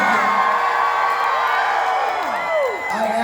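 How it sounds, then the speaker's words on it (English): A big crowd screams, whoops and cheers at a speech, loud and continuous, with high shrill shouts rising and falling over the roar and scattered clapping underneath. "I can hear you screaming already."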